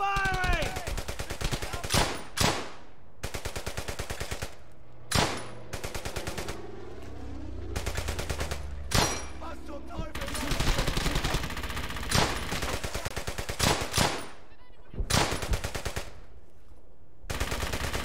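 Sustained machine-gun and rifle fire in the WWII game Brothers in Arms: Hell's Highway, rapid rattling bursts punctuated by louder single shots, dense and close throughout.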